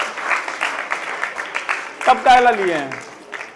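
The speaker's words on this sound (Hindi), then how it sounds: "ताली बजाएं एक बार और।" An audience at a school award ceremony claps continuously in a steady patter, with a voice speaking over the applause partway through.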